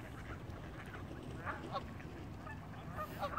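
Ducks and wild geese on a summer lake with lowered water give a steady low outdoor wash, with faint scattered quacks and honks rising around the middle and end, distant and soft.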